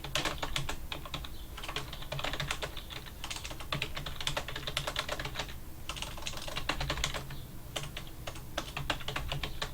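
Fast steady typing of code on a computer keyboard, dense runs of close, crisp key clicks with a few short pauses, continuing throughout with no talking.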